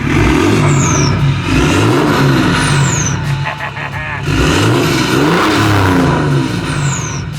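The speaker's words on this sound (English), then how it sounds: "It's a 2005 Mercedes E320 CDI, and I use this thing mainly for towing." 2005 Mercedes E320 CDI with a 3.2 turbo diesel and straight pipe turbo-back exhaust, revving loudly and close in repeated surges, with turbo whistles rising and falling over a gruff low rumble.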